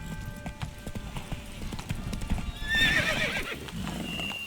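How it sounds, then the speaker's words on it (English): A horse in The Witcher 3: Blood and Wine clip-clops along with rapid rhythmic hoofbeats, joined by a clear whinny partway through, over game ambience with a faint voice. "Come on, Roach."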